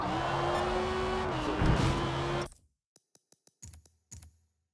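A car engine from the Forza Motorsport racing game roars loudly with a steady, sustained tone that dips in pitch as the car shifts down, then cuts off abruptly. A few sharp clicks follow in near silence.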